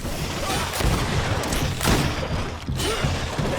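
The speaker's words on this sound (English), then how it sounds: "Watch out! Grenade!" In the video game Greedfall, a grenade blast and gunfire make dense, overlapping booms and bursts of shots. The loud battle noise stays constant and rumbling, with sharp cracks throughout and no clear speech.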